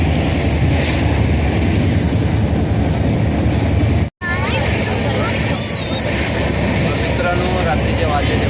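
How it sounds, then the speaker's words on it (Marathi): A crowded passenger train on the Konkan route near Nagothane runs at night with a loud, steady rumble and rattle throughout, broken by a brief dropout midway, while voices murmur faintly underneath. "पहिल्यांदाच आम्ही रात्रीचा ट्रॅव्हल करत आहे ट्रेनमधून"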